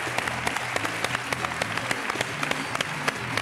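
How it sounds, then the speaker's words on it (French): A steady round of audience applause for dancing couples on a TV show, dense clapping sustained throughout with a few sharper claps standing out. "on peut vraiment les applaudir"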